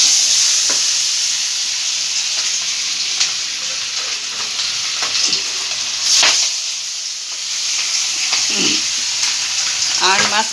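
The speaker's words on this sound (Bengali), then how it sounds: "এবার মাছ এক এক করে মাছ ভেজে নিচ্ছি।" Fish pieces coated in salt and turmeric fry in hot mustard oil in a wok, producing a loud, steady, close sizzle with occasional crackling bursts and light utensil clicks.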